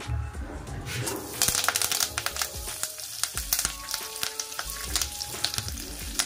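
Curry leaves frying in hot oil for a makhana and poha snack mix, a loud steady crackling sizzle with sharp pops and bursts throughout, plus occasional clinks of a spoon stirring in the pan.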